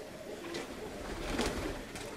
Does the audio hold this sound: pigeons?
yes